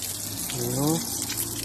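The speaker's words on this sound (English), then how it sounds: "Right, give the whole area a good clean and soaking." Water gushes steadily from a hose or tap while a garden area and plants are soaked in Cyprus, a continuous close wash with a voice speaking faintly over it.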